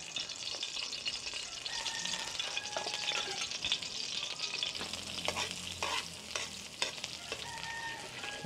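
Margarine sizzles and crackles steadily in a hot pan for Batangas-style beef kaldereta, with scraping stirs breaking through in the second half; no voices.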